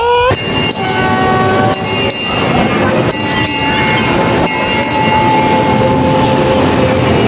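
A train passing close by at a crossing, its loud rumble joined by repeated rhythmic clacks of the wheels over rail joints and sustained high squealing tones, continuous and near throughout.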